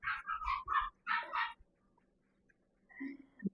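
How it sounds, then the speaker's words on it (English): Puppies playing nearby, giving a burst of short yips and high whimpering barks, then a pause and a few quieter squeaky yelps at the end. "Now the puppies are playing. Do you hear them playing?"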